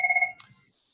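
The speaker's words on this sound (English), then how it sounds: "Sorry, my phone's ringing." A mobile phone rings with a short, sharp electronic trill of pulsed tones that cuts off abruptly, heard during an online transit commission meeting.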